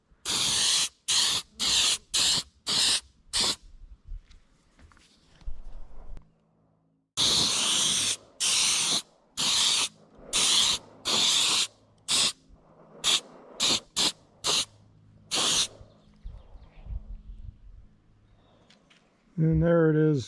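Automotive two-part gloss coat sprayed onto a largemouth bass skin mount in repeated short, loud hissing bursts with brief pauses, a few quiet gaps between groups.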